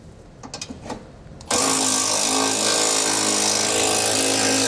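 A power tool spins up abruptly and runs loud and steady, driving a 15mm socket to tighten the side bolts of a Blue Ox base plate on a 2019 Lincoln, after a few brief clicks.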